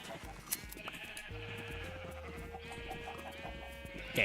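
Sheep bleating in the video game Minecraft, a steady run of wavering bleats held over several seconds at moderate volume, with a faint background of game ambience.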